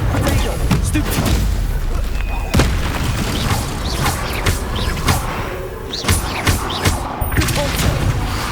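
Spells and explosions in Hogwarts Legacy crackle and boom in loud, dense succession, with sharp magical bursts and heavy impacts over a constant battle rumble.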